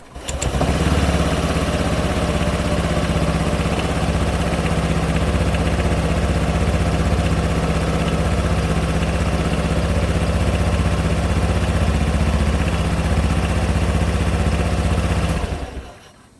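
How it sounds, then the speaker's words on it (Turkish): A Honda SH125 scooter engine idles steadily after an oil change, a close, continuous putter that holds even from start to finish before cutting off at the very end. "Son olarak motoru çalıştırıp biraz rolantide bekleyip yağın dolaşımını sağlıyorum."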